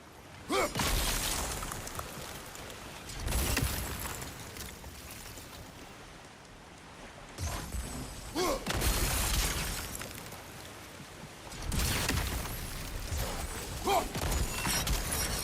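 A heavy wheel mechanism grinds as it turns in a video game, coming in several loud, rumbling bursts with crashing, splashing texture and quieter stretches between them, with no talk.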